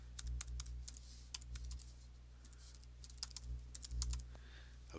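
Quick bursts of keystrokes on a computer keyboard as a web link is typed in, irregular clicks in short clusters with pauses between, close and fairly quiet with a low hum underneath.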